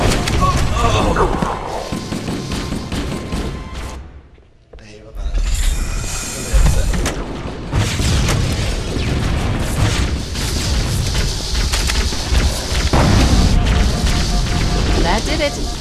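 Pulse generator overloading and exploding in the Halo video game, a loud boom then a brief near-silent gap before heavy crackling blasts and mechanical rumble resume, with someone talking over it.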